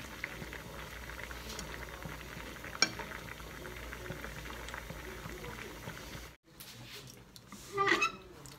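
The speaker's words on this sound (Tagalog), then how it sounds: "I-boil to siya hanggang sa lumambot yung noodles." Dried noodles boiling in a pot of water, a close, steady bubbling patter that briefly cuts out, then resumes with a burst of louder bubbling.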